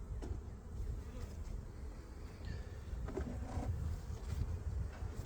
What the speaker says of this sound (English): There's a few bees on there.